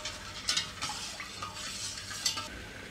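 Thin sugar syrup for rasgulla boils in a pan while being stirred, giving a close bubbling hiss with repeated scraping strokes and a few soft clinks of utensil against metal.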